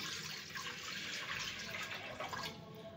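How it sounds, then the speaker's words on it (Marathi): About a litre of water pours into a cooking pot to start sugar syrup for gulab jamun, a steady, continuous splashing rush lasting the whole three seconds with no talk. "आणि त्याच्यामध्ये आपण घालूया पाणी।"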